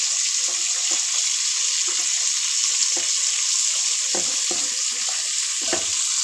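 Chopped carrots, capsicum and beans fry in a pan for vegetable chowmein, making a continuous bright sizzle close at hand, with repeated scraping and knocking as a spatula tosses them, no one speaking.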